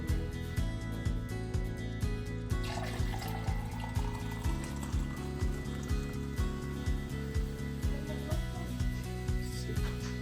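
Liquid being poured, a continuous watery trickle beneath steady rhythmic background music, fairly quiet and close.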